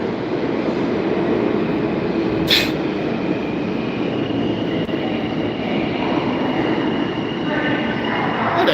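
A New York City subway train rumbles and roars steadily and loudly throughout, a dense continuous rail noise with a brief high squeal partway through.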